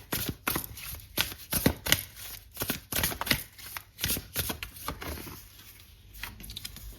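Tarot cards are shuffled by hand in quick riffling bursts and soft slaps, close and fairly quiet, with brief pauses between rounds.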